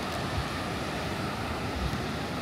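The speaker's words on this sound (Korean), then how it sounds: "그냥 봐서는 파도가 세 보여요 지금." Strong ocean surf rolling onto Seminyak beach in Bali, a steady loud wash of breaking waves with wind buffeting the microphone and no voices.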